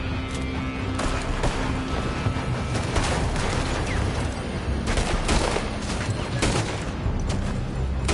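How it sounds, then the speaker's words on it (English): Gunfire rings out from a building in a PS4 video game, a steady run of loud, overlapping shots and bursts over constant battle noise for the whole stretch. "They're shooting from that building!"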